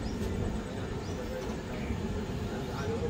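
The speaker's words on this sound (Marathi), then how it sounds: "मस्त आपली ट्रेन बोगद्यातून जाताना आपण मजा करतोय" The Panchavati Express passenger train running slowly through a tunnel on the Nashik to Mumbai route, a steady enclosed rumble and rattle of wheels and carriages heard from inside, with faint voices beneath.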